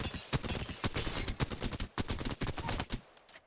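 Alternator SMG fire in Apex Legends comes as rapid, repeated bursts of sharp gunshots with brief gaps between volleys, moderately quiet overall.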